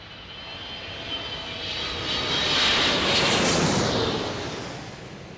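A loud airplane engine roars past at San Diego International Airport, swelling to a peak midway with a sweeping whine and then slowly receding, no voices.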